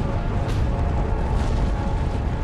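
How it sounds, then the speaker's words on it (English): Mount St Helens volcanic eruption, a colossal explosion after the volcano's northern flank collapsed, heard as a loud, sustained low roar and rumble that stays dense and steady throughout, with no voices over it. "It releases millions of tons of magma in a colossal explosion."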